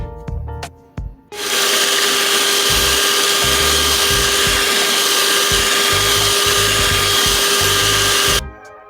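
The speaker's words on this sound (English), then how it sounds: "we're going to take a hand mixer and we're going to blend it until it forms stiff peaks" A handheld electric mixer whips an ice cream mixture toward stiff peaks, its motor starting after a few soft knocks and running as a loud, steady whine for about seven seconds before cutting off.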